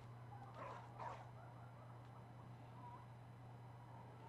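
A dog in the video game Bloodborne gives two short barks close together near the start, then falls quiet over a steady low background drone.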